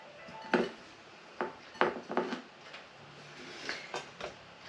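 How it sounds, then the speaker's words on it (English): Sugar-rolled cookie dough balls being set into a baking pan for cherry pie cookie cups, giving several soft, close knocks and clinks against the metal at uneven intervals in a quiet kitchen. "And we're going to roll it in the sugar. And put it in the pan."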